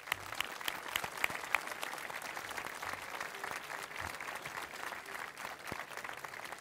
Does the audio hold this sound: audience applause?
yes